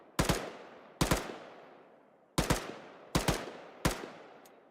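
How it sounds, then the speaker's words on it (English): Gunfire from an Arma soldier shooting through trees at enemy machine gunners: five loud, sharp bursts, each a quick double shot, spaced irregularly over a few seconds with nothing else heard. "I'm just shooting through the trees at an enemy machine gun force that can't see me."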